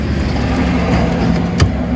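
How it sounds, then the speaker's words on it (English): A handheld power ratchet runs close by as it tightens a tail light bolt on a 2016-2022 Chevy Malibu, giving a steady motor whir throughout that ends in a brief sharp click. "I'm gonna take my handy dandy power ratchet again"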